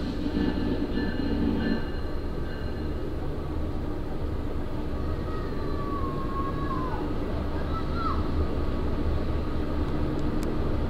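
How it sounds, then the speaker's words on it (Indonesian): A passenger train, the Kertajaya bound for Surabaya Pasar Turi, rumbles steadily as it arrives at a station platform, its low mechanical drone continuous throughout, with faint squeals and a soft horn-like tone partway through. "jalur 2 di depan saya ini akan segera masuk kereta api Kertajaya tujuan Surabaya Pasar Turi"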